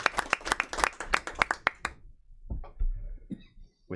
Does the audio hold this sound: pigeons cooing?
no